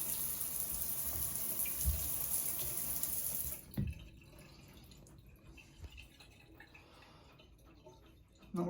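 Moen 1222B Positemp shower cartridge faucet dripping, faint water running at first, then a few soft, sparse drips in a quiet bathroom.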